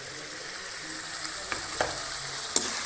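Spice powders stirred into arbi (taro) frying in a pan, with a steady close sizzle and a few sharp scrapes of the spoon against the pan, no talking.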